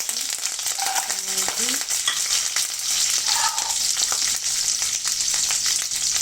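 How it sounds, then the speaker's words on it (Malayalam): Garlic, green chili, ginger and cashews fry in hot oil, a continuous crackling sizzle with a few faint clinks of stirring, close and loud throughout. "എണ്ണ ചൂടായി, പിന്നെ അപ്പോൾ അതിലേക്ക് വെളുത്തുള്ളി, പച്ചമുളക്, ഇഞ്ചി"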